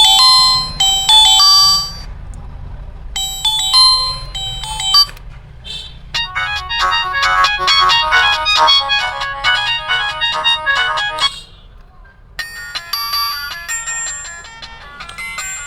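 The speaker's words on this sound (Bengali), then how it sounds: "সর্বপ্রথম আমি রিংটোনটা একটু শোনাবো, যে ফোনটির সাউন্ড আপনি বাসাবাড়ির ভিতরেও পাবেন কিনা।" A Symphony L70 mobile phone plays its ringtone loudly, a bright chiming electronic melody in repeating phrases with brief gaps between them. No talk.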